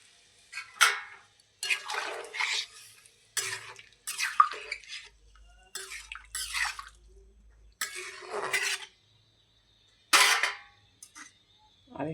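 Water is poured into a pan of pumpkin cooking with egg in several separate bursts, each a short splashing gush with gaps of quiet between them, close and fairly clear.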